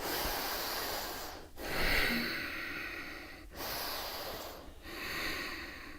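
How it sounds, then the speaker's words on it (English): Slow, deep yoga breathing, with long audible inhales and exhales through the nose in a steady rhythm, close and fairly soft. "Breathe."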